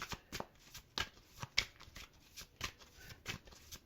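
Playing cards are shuffled and dealt close up and quietly, a run of quick riffling bursts and sharp card snaps spread across a few seconds.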